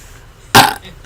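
One loud, abrupt burp bursts out close to the microphone and fades within a fraction of a second, with near silence around it.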